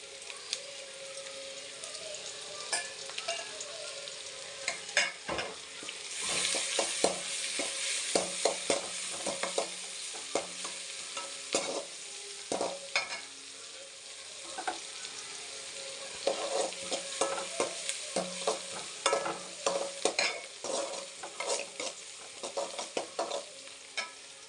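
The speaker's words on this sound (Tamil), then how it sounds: "வெங்காயம் வதங்கி வச்சுக்கோங்க" Onions and crushed garlic sauté with mustard seeds and turmeric in hot oil, giving a soft, continuous sizzle broken by scattered crackles and stirring scrapes at close range.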